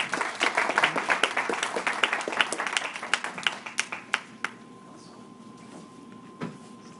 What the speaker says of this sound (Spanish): un agradecimiento y un aplauso a nuestros ponentes